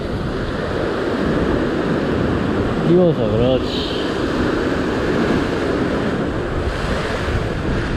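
Sea waves and gusting wind around a small dinghy used for sea fishing, a constant roaring wash with someone speaking briefly in the middle.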